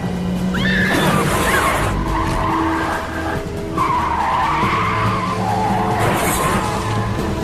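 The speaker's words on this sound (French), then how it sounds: "Elle va pas plus vite que ça, cette bagnole!" A fast car skids and squeals its tyres during a prison-break escape chase. Loud, close engine roar is broken by long tyre screeches that come in repeated bursts across the stretch.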